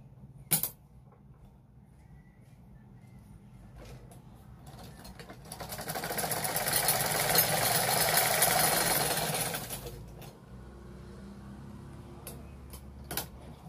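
A sewing machine runs over thin cloth in a steady mechanical whir of rapid stitching, lasting several seconds in the middle of the clip, flanked by quieter handling sounds and a few sharp clicks, heard close and alone.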